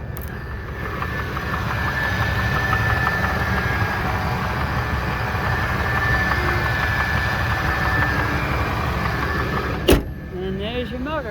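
A 1999 Ford Expedition's Triton 5.4 V8 engine idling, a steady low rumble heard close with the hood open, ending in a sharp knock.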